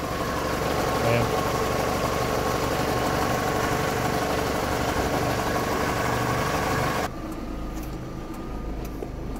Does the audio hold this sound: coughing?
no